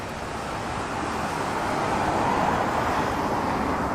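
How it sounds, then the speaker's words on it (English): A vehicle passes outside an abandoned building in a local neighbourhood as a broad, steady road rumble that builds slightly and holds loud and close for a few seconds, with no voices. "Oh, that's just a vehicle passing."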